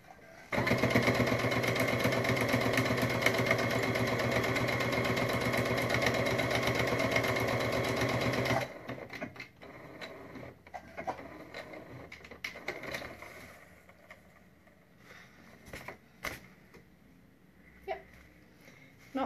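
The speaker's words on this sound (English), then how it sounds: "I just do a very small edge stitch so it closes the hole" A sewing machine edge stitches a small triangle pencil case closed, a loud close motor whir with rapid needle clatter for about eight seconds, then stopping, leaving faint handling and rustling sounds.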